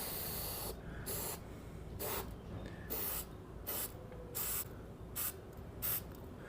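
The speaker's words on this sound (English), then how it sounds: "So I've got some rust inhibitor here. We'll just spray a little bit on here and inside as much as we can." Rust converter inhibitor sprayed from a can onto and inside the door of a 1966 Ford Mustang, a series of sharp hissing bursts of varied length separated by brief pauses, close and alone.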